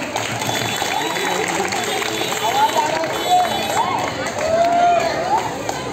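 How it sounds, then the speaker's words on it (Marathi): A dense crowd at a Dahi Handi festival in Walkeshwar, cheering girls in a women's roving Govinda troupe. Steady broadband crowd noise with clapping texture runs throughout, with a few whistle-like tones rising above it. "हा मुलींनी तरी टाळ्या वाजवा"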